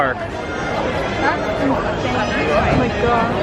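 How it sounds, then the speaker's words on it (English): Dense crowd of people streaming into a Disney theme park on Toy Story Land opening day, a steady murmur of chatter and footsteps around the listener, with someone nearby exclaiming over it. "Take a look at the crowd still coming in to the park."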